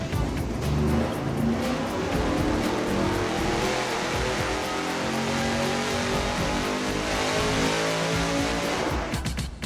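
A 1,000-horsepower engine revving hard through Borla straight-through mufflers, a loud, sustained raspy roar that holds almost unbroken before cutting off at the end, with no talking.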